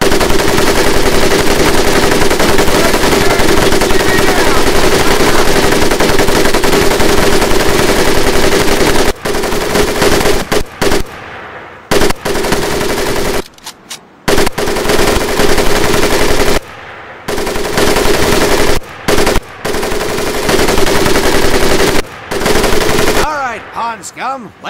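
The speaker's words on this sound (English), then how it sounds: "M1919A4 30 caliber machine gun" M1919A4 .30 caliber machine gun in the video game Medal of Honor Pacific Assault, firing long, loud, continuous bursts broken by brief pauses, close and dominant throughout.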